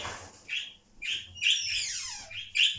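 Pet birds chirp nearby in a quick series of bright, separate tweets and short whistles, with brief pauses between calls and no talking.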